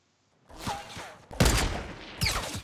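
Fortnite duo battle royale gunfire, with three loud booming bursts of shots including a gold sniper, close and heavy with echoing tails, and no talking over them.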